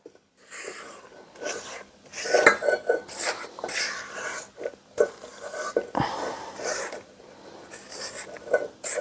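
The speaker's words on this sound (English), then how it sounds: "I'm going to take a spatula, give it a scoop" A spatula scoops and scrapes soft molasses cookie dough in a mixing bowl, giving repeated irregular clinks and scrapes at close range.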